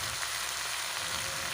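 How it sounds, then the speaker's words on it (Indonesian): Water spinach (kangkung) sizzles hard in a wok over the highest flame, a dense, steady hiss of frying with no breaks and no voices. "Jangan lupa saat kangkung masuk ke dalam wajan, besarkan api kompor hingga yang paling besar"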